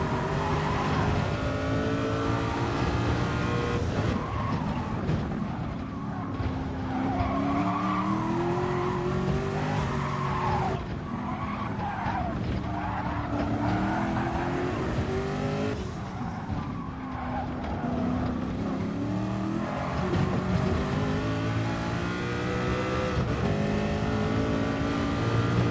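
A race car lapping the Nordschleife in a racing video game, its engine revving up and down through gear changes with repeated tire squeal and skidding, loud and continuous throughout.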